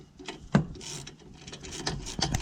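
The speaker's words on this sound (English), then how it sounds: "And we start the process of ratcheting it in." Ratchet wrench tightening a carriage bolt while installing Sumo Springs on a travel trailer, giving a few quick clicking bursts at close range with a sharper knock near the start, no voices.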